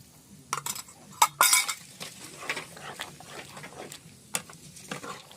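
A spoon clinks against a pot as cornflour slurry is stirred into chicken soup, several sharp metallic taps and scrapes in uneven bursts, close by and with no voices.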